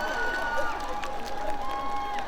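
Outdoor concert crowd applauding at a civic anniversary celebration, a moderate wash of clapping and some cheering heard from a distance, steady and fairly thin, with a sustained tone running underneath.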